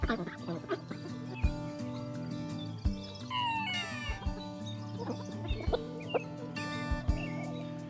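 Hens clucking around a nesting box in a farm chicken coop, with soft repeated clucks and short calls mixed among rustling, close by, while a person talks throughout.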